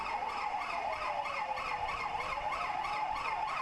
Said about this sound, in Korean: 소방차는 아슬아슬하게 주차된 차를 피해가거나